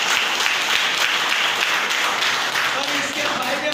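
An audience at a seminar claps in a dense, continuous burst of applause. The clapping stays loud and even throughout, with no pause.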